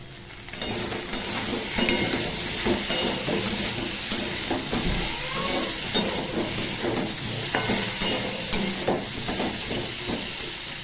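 Ginger and green chili paste sizzles steadily in a hot pan for a fish curry, with a continuous frying hiss and intermittent scraping stirs throughout, close and fairly loud, no talking.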